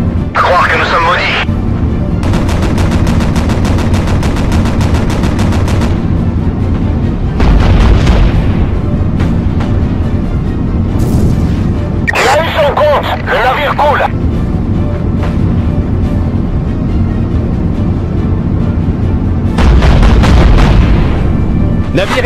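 Artillery booms and gunfire roll through a naval battle in Battlestations Pacific, set in the Java Sea, with loud repeated bursts over a constant rumble and speech over much of it.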